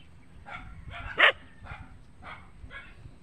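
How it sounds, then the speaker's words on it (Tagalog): A dog outdoors gives several short, sharp barks at irregular intervals, one louder yelp in the middle, heard at moderate distance over faint background rumble. "Tinahol kami ng dog."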